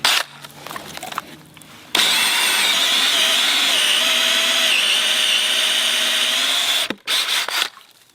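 A DeWALT XR 18V cordless drill bores into acacia hardwood with a loud, steady high whine for about five seconds, followed by a few short bursts as it stops and restarts.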